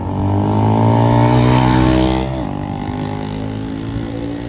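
A 250cc Cfmoto CLC 250 motorcycle engine drones loudly and steadily while riding, then the pitch drops and settles into a lower, even hum, with no talking.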